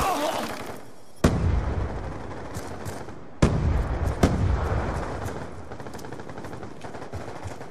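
Bursts of automatic gunfire and sharp blasts, including a concussion grenade, ring out in a Black Ops 2 multiplayer match on the Slums map, loud and close with lingering echoes between shots.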